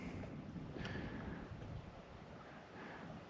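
Wind picking up at a high alpine lake, a steady rushing gust buffeting the microphone with low rumbling noise, no voices.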